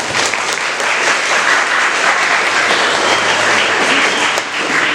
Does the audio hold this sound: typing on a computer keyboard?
no